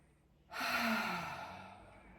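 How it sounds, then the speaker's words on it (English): A single deep breath drawn in slowly and audibly close to the listener, a soft breathy swell in an otherwise quiet room. "So just taking a deep breath in."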